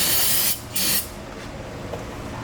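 Aerosol brake cleaner sprayed on a C6 Corvette Z06 T56 transmission, two loud close hissing bursts, the second short, followed by a quieter lingering hiss.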